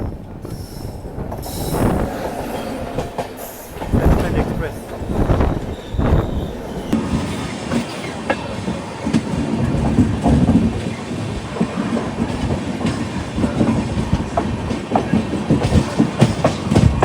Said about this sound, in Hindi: फ़िलहाल डिपार्चर हो चुका अपनी भुवनेश्वर दुरंतो एक्सप्रेस का नई दिल्ली रेलवे स्टेशन से।